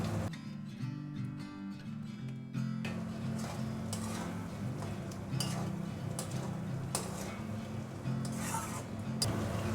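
Fried pointed gourd pieces tumble into thick cooked masala in a pan and are stirred, giving close soft scraping and rubbing with scattered light knocks of the spoon, fairly quiet and without talk.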